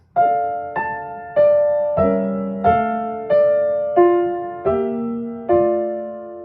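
A slow piano melody from Schumann's Träumerei, eight clear notes struck one after another with a bass line moving beneath, each note ringing and fading before the next.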